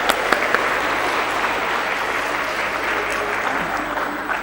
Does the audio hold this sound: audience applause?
yes